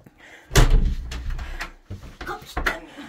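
A door that will not lock is handled and pushed, giving a sharp thud, rattling knocks and further bumps in a tense indoor scene, with brief voices mixed in.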